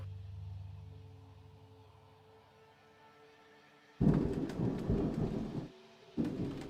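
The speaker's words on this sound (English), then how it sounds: "Distant thunder" Distant thunder rumbles low and soft for about four seconds, then a louder, closer crack and heavy roll of thunder bursts in, stops briefly, and resumes.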